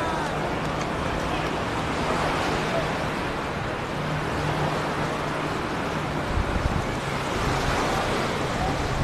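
Strong wind blows across a fine sandy beach at Gündoğdu, with a dense, constant roar of surf and gusts buffeting the microphone. Low rumbling noise persists throughout and no one is heard speaking.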